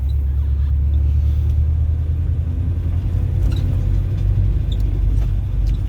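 A Saab 96 Deluxe with a V4 engine runs steadily, its deep, even rumble loud and close throughout, with faint light ticks and rattles above the low drone.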